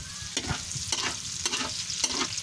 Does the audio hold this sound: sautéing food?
yes